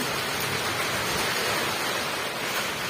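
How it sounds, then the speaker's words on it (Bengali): Heavy rain falls in a dense, steady hiss, loud and unbroken, with no voices. "বৃষ্টি চলে বসেছে। ঠিক আছে, বৃষ্টি হচ্ছে।"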